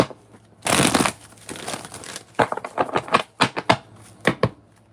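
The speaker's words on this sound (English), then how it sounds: "One more shuffle." Tarot cards shuffled by hand in a series of crisp riffling bursts and soft flicks, close and fairly loud, with quiet pauses between, no talking.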